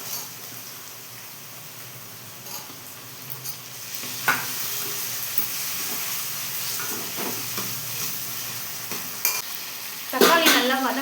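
Tomatoes and onions sautéing in a pan for a fish curry, a continuous moderate sizzle with stirring scrapes and spoon clinks that grow louder near the end.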